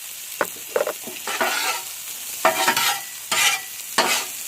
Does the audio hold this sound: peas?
yes